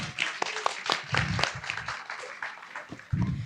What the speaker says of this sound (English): So, big round of applause for Ndari.